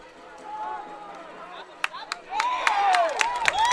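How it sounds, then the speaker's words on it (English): A Crestview high school football crowd at a game against Plymouth cheers and claps, building from a low murmur to rhythmic claps and whistling noise, with a commentator talking over it. "So the Crestview crowd starting to get into it."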